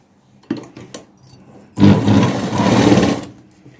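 Close by, a sewing machine stitches a long seam on a Punjabi dress pant with side frills, a couple of soft clicks first, then a steady loud rattling hum for over a second.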